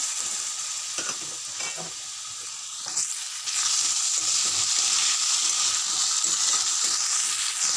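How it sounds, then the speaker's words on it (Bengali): Potatoes frying in hot oil with a green chilli, a bay leaf and whole cumin, a soft bubbling with stirring knocks, then a loud sizzling hiss that swells after a few seconds and holds steady. "আলুগুলোকে একটু ভেজে নেবো"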